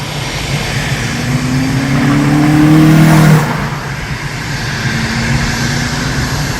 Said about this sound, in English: it is cool over here seeing the airplanes